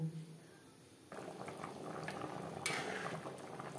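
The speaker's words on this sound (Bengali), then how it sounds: "গ্রেভি ফুটে ওঠা পর্যন্ত অপেক্ষা করব।" Chicken and potato gravy bubbles in a pot, a steady burbling boil that grows fuller after the first second, with a light clink of metal near the end and no speech.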